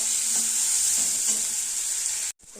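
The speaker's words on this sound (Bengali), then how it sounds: "পেঁয়াজগুলোকে ভালো করে ভাজা ভাজা করবো" Onions sizzling steadily in hot oil in a pan, a couple of soft stirring scrapes over a continuous fry, ending in a sudden brief cutoff.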